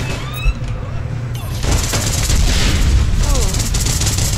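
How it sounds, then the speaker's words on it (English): Explosion in the PC online shooter APB Reloaded, a loud booming blast followed by sustained rumbling gunfire and battle noise that fills the rest of the moment. "Did I just kill you with that explosion?"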